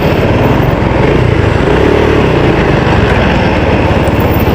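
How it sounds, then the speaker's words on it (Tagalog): Motorcycles pass close by on a street in Angeles, Pampanga, their loud engines roaring continuously and drowning out any other sound for the whole stretch. "Kakagulat naman tong mga nakamotor na to."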